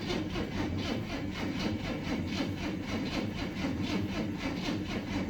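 A classic Chevy engine, parked for years, cranks over on its starter without firing: a steady, even, rhythmic churning that holds at one level throughout.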